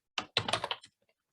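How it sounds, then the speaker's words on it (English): A handful of quick keystrokes on a computer keyboard while entering a search term, crisp and close, in a short burst followed by near silence. "So you just start typing in."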